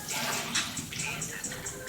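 Cold tap water streams steadily through a strainer holding blanched peas and basil, a continuous splashing rush close by.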